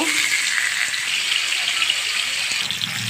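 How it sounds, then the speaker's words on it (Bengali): Steady, dense sizzling of fish frying in hot oil, continuous and fairly loud throughout with no talking. "আমার তেলগুলো গরম হয়ে গেছে এখানে আমি সবগুলো মাছ দিয়ে দিব"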